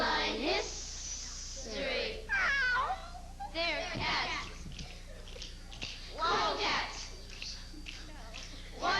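Children in a spring school play about cats imitate cats with voices, a string of drawn-out meows and yowls from several kids, fairly close, with gaps between calls and some stage chatter.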